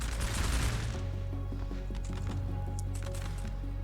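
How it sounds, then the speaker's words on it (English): Musket volley fire in a Napoleon Total War battle: a dense burst of crackling shots at the start, then a steady low rumble of battle with scattered distant pops, under a faint musical tone. "Unleashing a deadly volley from the..."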